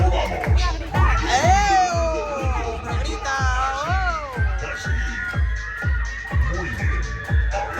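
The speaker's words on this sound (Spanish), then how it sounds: "vamos a hacer todo el ruido que podamos" Riders on the Tren La Bruixa funfair ride at the Feria de Figueres 2022 shout and scream together as loudly as they can over a steady thumping beat, with children's voices rising above the crowd noise.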